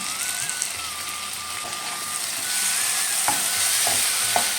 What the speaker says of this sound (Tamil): நம்ம ஆல்ரெடி பொரித்து வச்சுருந்த எறாவை இதோட கலந்துக்கலாம்